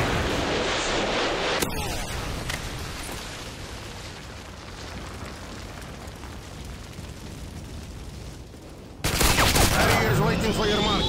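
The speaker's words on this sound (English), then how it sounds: "Predator missile inbound." Predator missile strike explosions in Modern Warfare 2 free-for-all on the Scrapyard map: a rumbling blast and debris roar that sustains and fades, then a second loud burst near the end, with game chatter in the mix.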